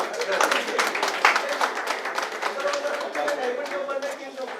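Audience applause at an evening event in the Ambassy Hotel, a dense, steady wash of many hands clapping close by for several seconds, with voices mixed into it.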